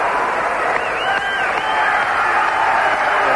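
A capacity crowd at a 1987 pro wrestling match in a Milwaukee arena roars and cheers continuously, a loud, dense wash of voices with a commentator talking over it.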